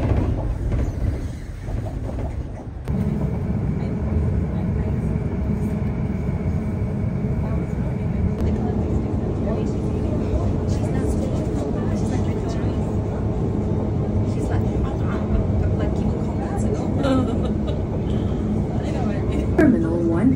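A steady, loud rumbling drone of a Riyadh Metro train in motion fills the clip, with a brief change in texture near the start and voices beneath.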